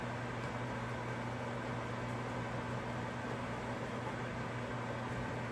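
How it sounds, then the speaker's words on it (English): A microwave oven hums evenly while cooking a pierced sweet potato on its potato setting, a steady low drone with a fan-like hiss and no other sounds. "Pop it on the microwave on potato settings"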